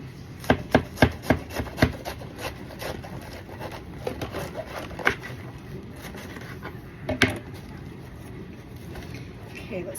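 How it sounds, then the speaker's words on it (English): A knife chops lettuce on a cutting board during meal prep, a quick run of sharp, close taps at the start, then scattered single chops over a low background hum. "I'm just going to start chopping this up."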